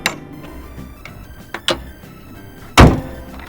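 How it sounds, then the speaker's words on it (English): A toy car's hood being shut: a few light plastic clicks and taps, then one loud, close thunk as it snaps closed near the end. No one talks. "So now let's close the hood."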